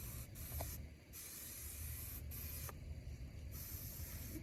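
Adhesion promoter for plastic sprayed from an aerosol can onto truck parts, several close hissing bursts of uneven length separated by brief pauses.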